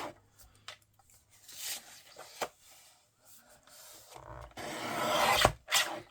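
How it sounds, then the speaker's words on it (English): Paper being cut and rubbed while trimming the flap off a paper craft card kit, soft rasping scrapes and brief snips in bursts, close and quiet, with a longer rustling stretch near the end. "So first things first is we have to cut off the flap."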